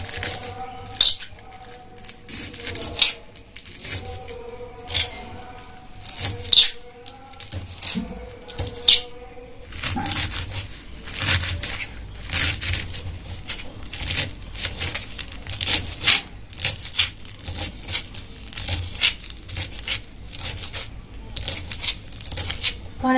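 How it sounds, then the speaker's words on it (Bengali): Spinach is finely chopped with a knife on a board: quick rhythmic close chopping taps in short runs, shifting to a denser, faster patter of cuts. "পালং শাকগুলো কুচি করে কেটে নিচ্ছি।"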